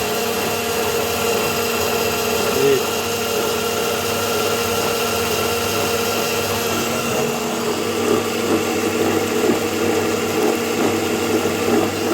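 A 3 kW pellet mill (granulator) runs in a workshop with a steady, loud mechanical drone and a constant motor hum, plus faint rattling and grinding textures throughout and no talking.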